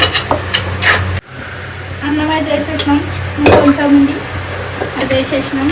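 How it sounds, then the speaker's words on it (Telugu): Cooked rice is stirred and mixed by hand in a vessel, with scraping and soft clatter over a background sizzle while people chat nearby. "ఈ అన్నం వేడి ఉన్నా కానీ నేను కలుపుతా"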